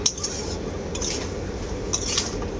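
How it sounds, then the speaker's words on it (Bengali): Mango pieces coated in sugar are stirred in a wok with a metal spatula, giving scattered scraping clinks against the pan over a steady cooking hiss. "ততক্ষণ এইরকম খুন্তিতে করে মাঝে মাঝে নাড়াচাড়া করে নিতে হবে"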